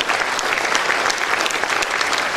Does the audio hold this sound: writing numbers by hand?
no